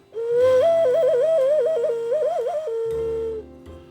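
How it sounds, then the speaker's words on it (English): A novelty whistle, pressed at its eyes to change tone, gives one loud sustained note lasting about three seconds. The pitch wobbles and warbles up and down before settling into a steady tone, heard close and alone. "these whistles here, which you press the eyes to make tones."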